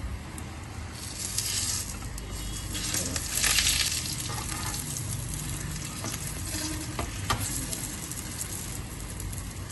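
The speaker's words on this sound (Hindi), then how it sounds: "इसको फ्राई कर लेंगे। देखें एक साइड जो है हमारी तकरीबन फ्राई हो चुकी है। अब इसकी साइड चेंज करेंगे।" Crispy potato snacks frying in hot oil are turned over, giving a dense, continuous sizzle and bubbling that swells briefly with scraping as the pieces are flipped.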